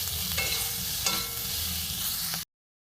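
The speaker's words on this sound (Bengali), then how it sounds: "একটু ভাজা হোক।" Diced onions and capsicum fry in a pan for egg dopiyaza, a steady close sizzle with a few stirring scrapes, stopping abruptly after about two and a half seconds.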